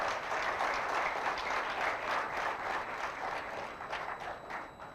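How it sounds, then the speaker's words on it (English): A large audience at a youth summit on inclusive growth bursts into a round of applause, steady dense clapping filling the hall for the whole stretch and easing slightly toward the end. "And audience, please give them a big round of applause."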